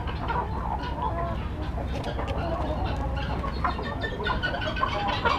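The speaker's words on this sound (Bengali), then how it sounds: "এটা হচ্ছে আমাদের টাইগার মুরগির শেড" Tiger-breed chickens cluck continuously inside a poultry shed with sand litter, a dense, steady flock chorus close by with no talk.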